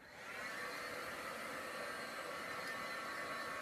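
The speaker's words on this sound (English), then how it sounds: "use a heat gun like I'm doing" A heat gun blows steadily while drying a crafted card, a constant airy whirring hiss that starts up and holds at an even level, close to the microphone with no talk.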